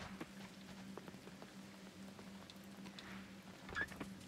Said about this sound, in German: Wie schön, es regnet.